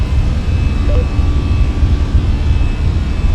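An Airbus A320 takes off in Flight Simulator 2024, its engines giving a steady, loud, broadband roar with deep low rumble throughout and no talking.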